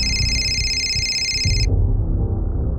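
A telephone ringing inside a police station, a loud electronic tone that lasts about a second and a half and then cuts off, leaving a low hum of room noise.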